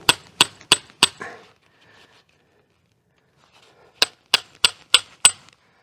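Hammer blows on metal while forging a fire poker over a campfire: four sharp, evenly spaced strikes, then a pause, then five more ringing hits, fairly light and close, with no talk.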